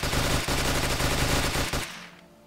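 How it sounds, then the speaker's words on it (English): Rapid automatic fire from a FAMAS rifle in the video game Fallout 4, a loud continuous burst of shots that stops near the end and leaves a fading tail. "there's just nothing that can withstand the ridiculous rate of fire this thing has"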